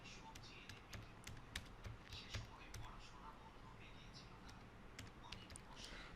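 Text is typed into an Excel spreadsheet on a computer keyboard, soft scattered key clicks in quick bursts, faint and close, under a quiet voice speaking.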